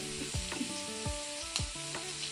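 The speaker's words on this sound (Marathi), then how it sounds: "मधल्या जागेवर तळायला टाकूया" Fish fries in shallow oil in a pan, a soft steady sizzle broken by several crisp pops and spatters, close and fairly quiet.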